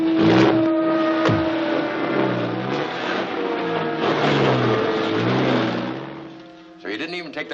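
A truck engine pulls away in an old 1950 film scene, a steady mid-pitched engine drone rising and shifting for several seconds, fairly close, before fading as voices come in at the end.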